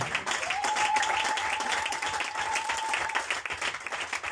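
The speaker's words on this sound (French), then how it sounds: "Est-ce qu'on peut acclamer le Seigneur?" A church congregation applauds to acclaim the Lord, steady dense clapping throughout with a sustained tone held over it, loud and continuous.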